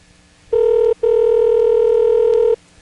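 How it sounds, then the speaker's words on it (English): Telephone line ringing on a 1970s–80s permanent-signal intercept recording, a loud steady electronic ring tone in two bursts, a short one then a long one separated by a brief gap, with no voices. "How can it be ringing if he hasn't even had a chance to dial the whole number?"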